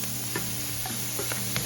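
Tomatoes go into a hot pan for butter chicken, producing a steady sizzle broken by a few light clicks and taps from the cookware, close up with no talking.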